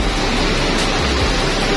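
Heavy rain pouring down around a waiting intercity bus, a loud dense steady hiss filling the whole clip with no voices.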